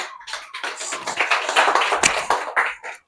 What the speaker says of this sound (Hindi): तो इसके लिए जोरदार तालियां साथ।